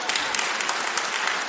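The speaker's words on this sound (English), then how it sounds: "Please applaud him, if you'd like to" An audience at a televised debate on democracy breaks into applause, a dense, continuous burst of clapping from many hands at full strength with no voices over it.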